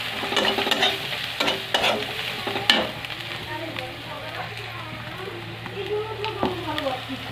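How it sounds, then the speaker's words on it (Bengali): Goat meat with turmeric powder being stirred in a frying pan, a spoon scraping and clacking in irregular strokes over a steady low sizzle, close and moderately loud, with no talking. "লাড়তে থাকবো।"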